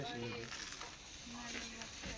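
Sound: eggplant fritters frying in oil

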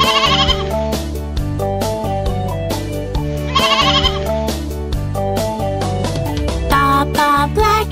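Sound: sheep bleating

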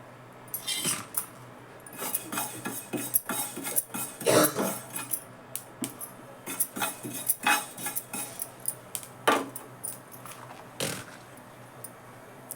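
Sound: dry roasting niger seeds in pan

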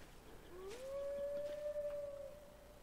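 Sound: wolf howling in the video game Hold Your Own

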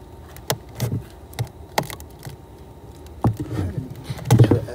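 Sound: honeybees buzzing at night around hive

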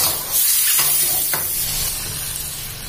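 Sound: stir-frying straw mushrooms and shrimp in oyster sauce

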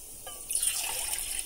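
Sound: water being poured into a pan

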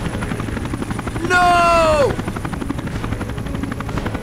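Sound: helicopter in Dead to Rights video game cutscene

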